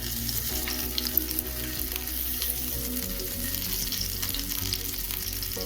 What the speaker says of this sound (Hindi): तेल पे डाल देते हैं 3 हरी मिर्च को दो भाग कर, थोड़ी सी लहसुन,